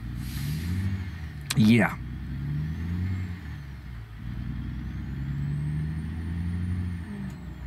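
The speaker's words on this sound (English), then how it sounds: "it's almost sounds like it's grinding gears" An American Truck Simulator truck engine drones with rising and falling tones, interrupted by a harsh gear-grinding burst while shifting early on, while a voice talks over it.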